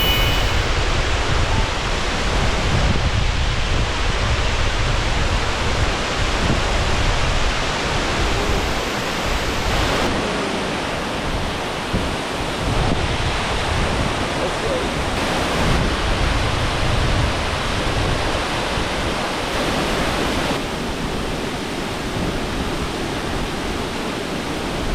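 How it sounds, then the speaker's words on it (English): A large waterfall at Ganoga Glen in Ricketts Glen, Pennsylvania, pours with a loud, constant broadband roar that stays steady and unbroken with no voices over it. "one of the largest waterfalls in the entire state of Pennsylvania"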